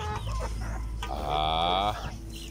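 Native chickens cluck close by, with one drawn-out, strained call rising over a steady farmyard background.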